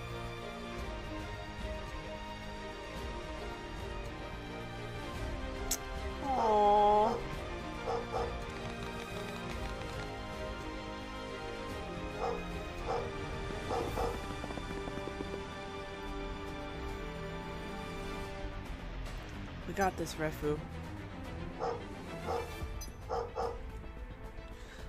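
Dog barks in the Final Fantasy 7 The First Soldier game, a short burst of yips around the middle over a steady bed of game music and effects, with brief talk from players.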